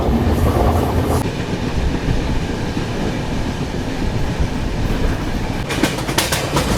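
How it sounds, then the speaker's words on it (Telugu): Samata Superfast Express rumbles along the rails through the Eastern Ghats, a continuous loud roar with rhythmic clickety-clack from the wagons and a brief burst of sharper rattling near the end. "సమత ఎక్స్ప్రెస్ ట్రైన్లో ఫుల్ ట్రైన్ అయితే చేయబోతున్నాము."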